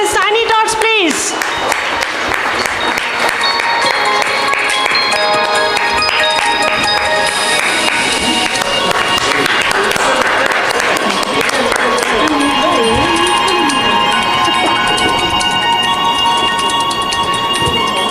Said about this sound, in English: Can we have everybody clap for this tiny tots please?